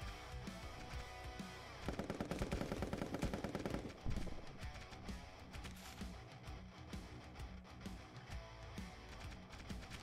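A laser gun fires in the party video game Pummel Party as a rapid, dense burst of zaps lasting about two seconds, followed by scattered game effects and music.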